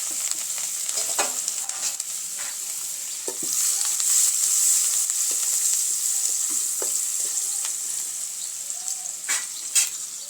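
Finely chopped onion dropped into hot tempering oil with mustard seeds, curry leaves and green chillies, sizzling steadily up close with occasional stirring clicks and a louder hiss partway through.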